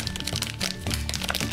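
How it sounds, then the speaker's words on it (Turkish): Scissors cutting into the crinkly plastic packaging of a giant Angry Birds play-dough surprise egg, with close crackling and crunching snips in quick succession. "Makasla açmayı deneyelim mi?"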